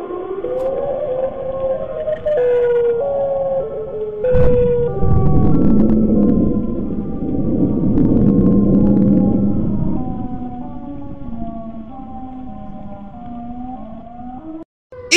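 Siren Head's loud wailing siren in Minecraft, with rising and falling tones sweeping on and on, joined by a deep rumbling drone, then fading toward the end.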